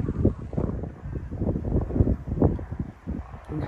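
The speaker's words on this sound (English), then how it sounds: "All this wind." Wind gusts buffet the microphone in a hillside cemetery surrounded by forest, a loud uneven low rumble that swells and fades, with no talking over it.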